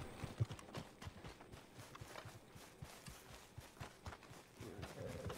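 Horse hooves run in Red Dead Redemption 2, a quick, faint clip-clop rhythm at a steady gallop heard at a distance.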